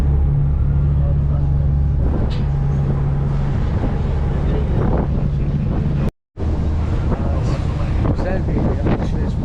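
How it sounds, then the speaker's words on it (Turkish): Steady wind buffeting and a low engine drone with water rushing past on a ferry crossing in İzmir; a brief dropout midway. "Vapura bindik. Şimdi karşıya geçeceğiz."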